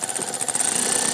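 Valve cover bolt being tightened with a ratcheting tool on a 3.6L V6 Jeep Grand Cherokee, giving a rapid, steady train of close metallic clicks that speeds up and grows denser toward the end.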